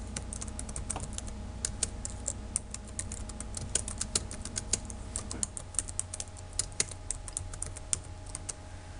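Fingers tap steadily on a computer keyboard while entering C++ code, with quick close clicks in an irregular rhythm over a low room hum.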